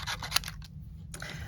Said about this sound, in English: I just kind of took my scissors and just went around and just cut